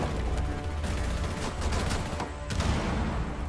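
Rainbow 6 gunshots crackle in a sustained, dense burst of rapid fire with a couple of sharper individual reports standing out near the middle and end.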